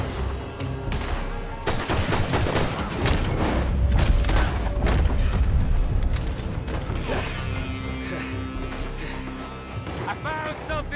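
A burst of loud, rapid gunfire in a Red Dead Redemption prison break, dense shots and clattering impacts piling up, then thinning out into scattered shots, with voices talking over parts of it.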